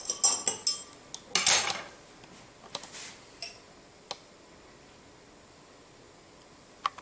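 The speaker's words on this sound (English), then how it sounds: "Let me stir it once." A mixture stirred in a container during a classroom demonstration, with a cluster of quick clinking and scraping taps at the start, then sparse isolated ticks over quiet.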